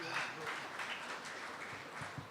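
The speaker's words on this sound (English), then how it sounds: "Please give them a big round of applause." Audience applause at a Poetry Hour session of the Jaipur Literature Festival 2022: a steady, fairly faint wash of clapping filling the hall throughout, with a few voices mixed in.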